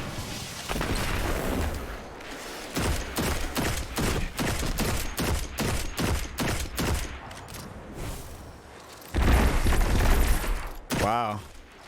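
Rapid gunfire and grenade blasts from a Destiny 2: The Witch Queen legendary campaign battle, with a long run of loud, evenly spaced shots, a heavy explosion near the end and a brief voice in the closing moment.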